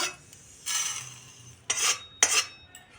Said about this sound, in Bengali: পাত্রের মধ্যে মশলাটা ঢেলে নেব